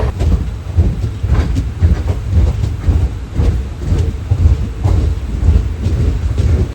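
A goods train passes close by on a flooded stretch of track, making a loud, continuous low rumble with rhythmic clatter from the wheels that holds steady throughout.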